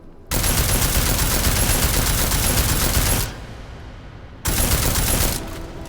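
Combat rifle fire in Deus Ex: Mankind Divided at a target range, a loud sustained burst of rapid automatic shots, a brief pause, then a second shorter burst.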